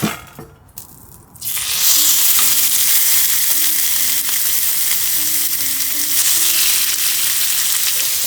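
Spicy red-marinated meat sizzling in a cast iron pan on a wood-burning stove at a lakeside camp. After a brief quieter start, a loud, close, continuous frying hiss runs throughout, with no talking.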